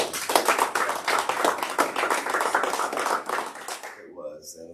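Applause from a church congregation after a song, a few rhythmic close claps under a voice at first, then fading out as talk resumes near the end.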